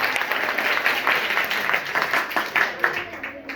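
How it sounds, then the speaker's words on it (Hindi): A group in a classroom quiz session bursts into loud, sustained clapping, dense and continuous for several seconds, with voices faintly mixed in. "जोरदार ताली।"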